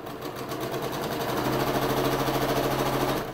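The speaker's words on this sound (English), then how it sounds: "just go ahead and sew this down" A sewing machine stitches quilt block pieces with a rapid, even mechanical chatter that ramps up and holds steady at close range, alone, before slowing at the end.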